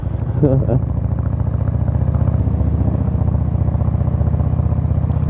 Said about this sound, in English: It's a different feeling riding with a motorcycle that is this heavy